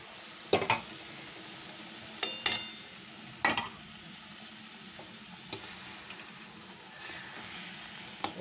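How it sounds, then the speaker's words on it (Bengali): Kheer, milk thickened into a sweet for rasakara, being stirred continuously in a pan, giving soft scraping strokes with a few sharp spoon-on-metal clinks over a low steady background, no voices. "এটা দিয়ে সমানেই কিন্তু নাড়তে হবে, না হলে দুধটা ক্ষীরটা ওর তলায় লেগে যেতে পারে"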